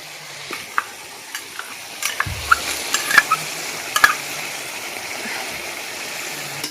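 Chicken sizzles in a pan with Kashmiri chili paste, stirred with scattered scraping clicks and knocks over a steady frying hiss, loud and close.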